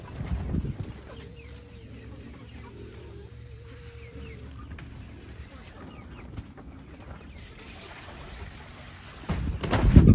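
Young Bielefelder and Australorp chickens with roosters in a pen, giving faint clucks and low calls throughout, with louder handling noises near the start and end.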